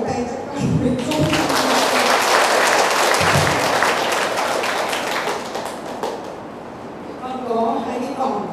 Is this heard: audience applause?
yes